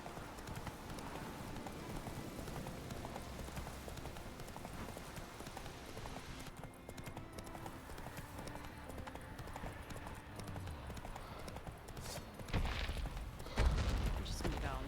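Horse hooves gallop in The Witcher 3, a fast, steady clip-clop running throughout with other game sounds, and a brief louder burst near the end.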